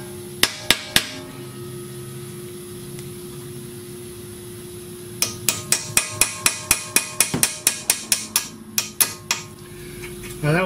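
Sharp metallic hammer strikes on a punch driving out a rusted part during a 2009 Toyota Camry transmission replacement: three quick blows, a pause with low machine hum, then a long run of steady, evenly spaced hits close by.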